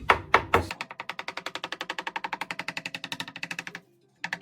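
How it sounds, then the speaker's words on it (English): A knife chops peeled, still-hot roasted eggplant on a board in quick, even, rapid taps after three heavier opening strikes, stopping briefly before a final few cuts. "We cut it by the knife."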